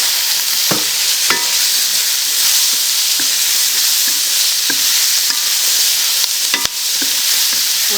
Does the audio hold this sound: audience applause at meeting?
no